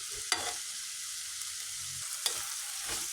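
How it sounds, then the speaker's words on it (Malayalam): Sliced onions and tomatoes sizzle steadily in a hot pan while a spoon scrapes and stirs them now and then, close up, during preparation of a mushroom roast, with no talking. "ഇപ്പോൾ ആയി വരുന്നുണ്ട് സവാള പെട്ടെന്ന് തന്നെ വഴിഞ്ഞ് വരും"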